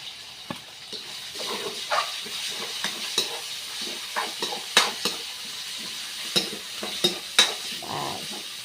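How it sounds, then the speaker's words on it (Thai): Pork fat being stir-fried in a pan as the start of Thai sweet and sour pork with cucumber, with a steady sizzle and frequent sharp clinks and scrapes of a spatula against the pan, close and without talk. "อันนี้จะทำการผัดแปร้วหวานนะคะ เอามันหมูใส่ก่อนเนาะ"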